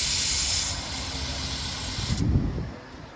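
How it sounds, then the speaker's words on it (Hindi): Rice boiling in a pot at a solo campsite, a loud steady steam hiss that drops back after the first moments, then a low bubbling burble swells briefly near the end. "अभी थोड़ी देर में चावल बॉईल हो जाएंगे।"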